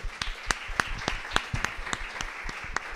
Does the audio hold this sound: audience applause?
yes